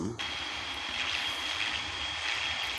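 A steady, continuous airplane engine drone in the video game Midnight Flight, holding a constant level throughout with a sustained high whine, alone without talk.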